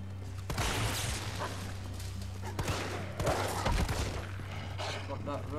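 Gunfire in the video game Resident Evil 3: several bursts of shots and impacts at moderate loudness, layered with game music and effects, with a person talking over parts of it.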